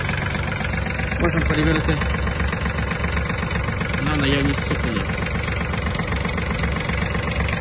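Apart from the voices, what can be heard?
Yanmar EF-222 mini tractor engine idling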